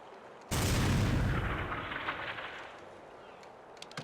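A weapon fires in the PS2 video game TimeSplitters: Future Perfect: one sudden, loud, heavy blast that rolls off into a long rumbling decay, with a few faint clicks near the end.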